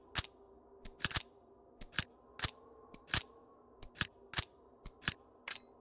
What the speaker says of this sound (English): It's like an over lubed, super smooth, silent buffer spring type setup.